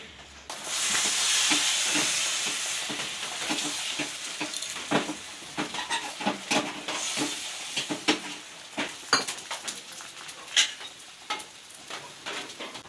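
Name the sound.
food frying in oil for Kali Puja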